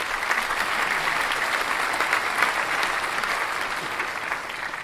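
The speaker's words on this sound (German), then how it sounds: "Und dann haben wir eigentlich auch hier einen Applaus." Recorded applause played back digitally by a technician in a planetarium during a science slam, a dense, steady wash of many hands clapping that holds evenly for about five seconds with no talk over it.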